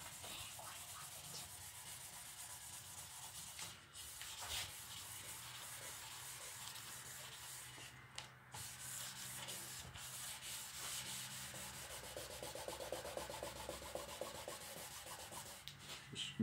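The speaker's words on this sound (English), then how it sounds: "I've had really good results with just using 600 grit. So I'm going to sand on this." A car headlight lens is hand-sanded with 600-grit sandpaper, giving a steady, faint, scratchy rubbing that continues for the whole stretch in alternating directions, with no voice over it.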